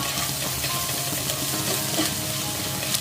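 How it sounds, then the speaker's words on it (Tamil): A spatula stirs pepper powder into cabbage fried rice in a hot pan, producing steady, loud sizzling with soft scraping throughout, up close and without talk. "ஆட் பண்ணி நல்லா மிக்ஸ் பண்ணிக்கோங்க"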